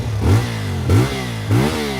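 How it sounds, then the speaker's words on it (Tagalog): A big bike motorcycle engine with a fault revs three times in a row, each throttle blip rising and falling loudly and close, between steady idle. "Tingnan nyo yung mangyayari sa makina, sisigaw yan."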